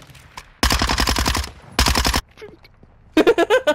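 Minigun fire in Call of Duty: Modern Warfare 2, three loud rapid-fire bursts with short gaps between them, each a dense rattling stream of shots close to the listener.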